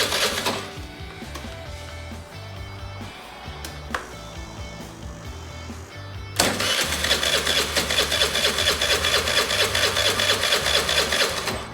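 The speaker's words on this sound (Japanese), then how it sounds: "もう一回エンジンかかるかチェックしてみましょう" A Suzuki Address V50 scooter, left unused for over a year and just refuelled, is cranked with short mechanical whirs. Then its small engine catches and settles into a loud, steady, buzzing idle that runs to the end.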